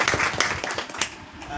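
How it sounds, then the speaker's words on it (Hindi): An audience at an award ceremony claps loudly and continuously to welcome a guest onto the stage, a dense patter of many hands lasting under two seconds. "पहले तो चाची का जोरदार ताली से स्वागत करें।"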